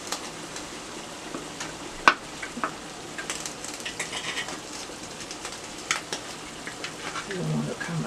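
Canned sardines in their oil cooking in a pan for sardine gravy, sizzling softly with scattered clinks and scrapes of stirring and one sharp knock, under a faint background murmur.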